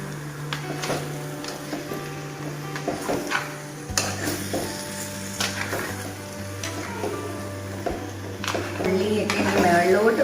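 Chicken pieces are stirred in masala in a pan, giving intermittent scraping and clinking of a spoon against metal with light sizzling underneath, while a person talks throughout.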